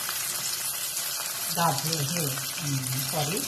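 Chopped tomato goes into onions frying in a pan for upma, setting off a steady, hissing sizzle while someone talks over it.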